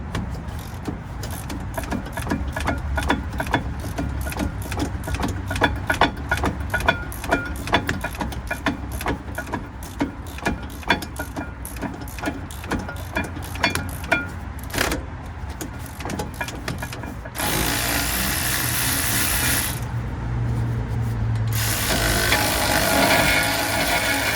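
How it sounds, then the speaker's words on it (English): An electric ratchet fitted with a 15 socket works on the rear wheel hub of a Ford Taurus, giving a run of rapid mechanical buzzing bursts up close, then a steadier, louder whir near the end. "my electric ratchet, put a 15 on it, 15 socket."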